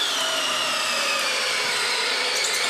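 Compact cordless drill-driver, a DeWalt Atomic DCD708 or Milwaukee M12 Fuel, running at steady high speed with a continuous loud whine that holds level for the whole stretch.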